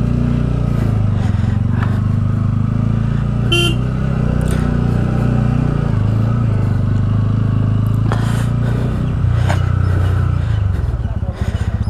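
Motorcycle rumbling and pulling away through Pumdikot near Pokhara, Nepal, a steady low engine drone with brief revs, a short horn toot and passing traffic, while people talk over it nearby.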